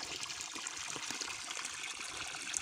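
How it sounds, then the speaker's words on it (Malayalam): Water falls and trickles into a guppy tank as a soft, steady, close-up splashing with small irregular droplet patters, faint throughout. "വെള്ളം വീണുകൊണ്ട് എത്രത്തോളം അതിൻ്റെ സൗണ്ട് നിങ്ങൾക്ക് ക്ലിയർ ആവുന്നുണ്ട് എന്ന് എനിക്കറിയില്ല"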